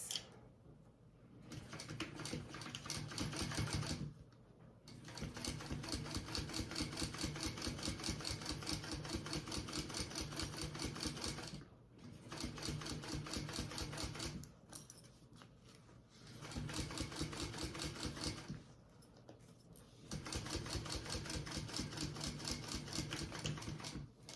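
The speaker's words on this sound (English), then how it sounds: "Now I'm going to top stitch this." A sewing machine top stitches fabric in repeated bursts of fast, even needle chatter, each run lasting several seconds and broken by short pauses, steady and close.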